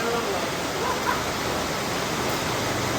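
Heavy monsoon rain pours down near a flooded spot where a Maruti 800 sits, making an even, unbroken hiss close by, with faint traces of a voice beneath it.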